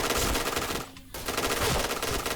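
Continuous rapid automatic fire from a video game rifle rattles loudly throughout, dropping out for a brief moment midway before resuming at full intensity.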